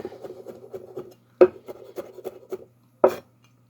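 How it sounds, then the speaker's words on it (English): A kitchen knife coarsely chopping garlic on a cutting board, a quick series of close, light taps with a couple of sharper knocks, moderately quiet and with no talking. "I love garlic, so I coarse chop it."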